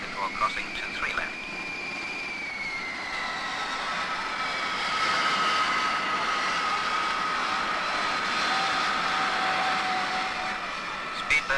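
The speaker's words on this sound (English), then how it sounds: "Speedbird 7021 is clear for takeoff. 7021 is rolling." Jet engines of the Speedbird 7021 airliner spool up for its takeoff roll on runway 28 left, a steady, loud turbine roar with rising whining tones that builds and holds throughout.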